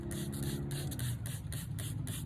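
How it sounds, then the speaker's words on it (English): A spray bottle mists water onto an owl statue, a quick series of about eight hissing squirts in an even rhythm, close up and without talk. "I take water, make sure that lid's on good, and I spray it on the statue"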